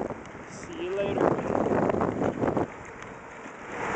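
Wind rushes and buffets steadily against the microphone during an electric bike ride along the Lake Michigan lakefront trail in Chicago in summer, swelling in the middle and easing toward the end.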